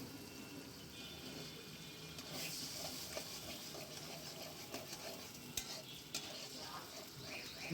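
Two eggs with cooked rice being stirred and fried in a pan, a steady low sizzle under repeated scraping and clinks of a spatula against the metal, continuous and close with no talking.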